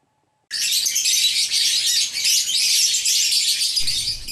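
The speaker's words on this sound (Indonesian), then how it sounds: "Riuh terdengar suara cuitan dari berbagai macam burung." Dense, continuous chirping and tweeting from many kinds of caged birds at a bird market in Banjarmasin, loud and close, starting abruptly after a brief silence and filling the air without pause.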